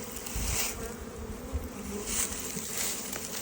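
Honey bees buzzing around a wooden hive, a close, steady drone of many wings with slight swells, low in level and heard alone.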